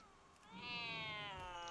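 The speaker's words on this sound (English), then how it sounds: "I wanted to show you what the cat sounds like when you feign death." A single drawn-out video game cat meow, rising then holding, clear and fairly close, with a quiet background.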